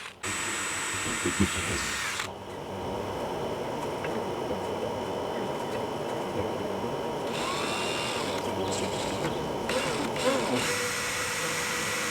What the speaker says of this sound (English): Now it's time to drill for the 4 mounting screws